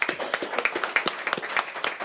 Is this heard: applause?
yes